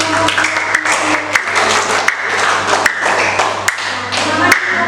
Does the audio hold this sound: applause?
yes